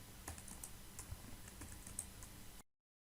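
Quiet, rapid typing on a computer keyboard, with irregular light key clicks and a few sharper taps, cutting off abruptly into silence.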